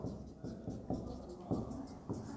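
Marker or chalk strokes on a board while writing out a diagram of a plant ovule: soft, faint scratching in short repeated strokes with a rhythmic tap at each new mark.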